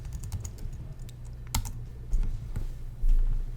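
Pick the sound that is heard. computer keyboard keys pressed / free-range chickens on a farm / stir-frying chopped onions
computer keyboard keys pressed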